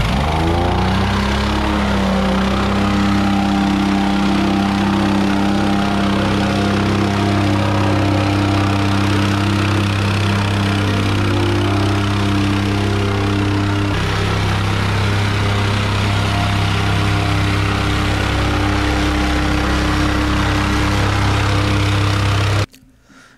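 A plate compactor's small Honda petrol engine runs loud and steady at close range, a throbbing mechanical drone that holds for over twenty seconds and then cuts out abruptly.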